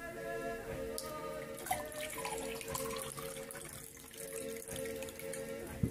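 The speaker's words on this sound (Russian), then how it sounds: "Наливаете воду." Water poured into a glass, a quiet, continuous trickling and splashing with faint ringing tones, ending in a small clink near the close.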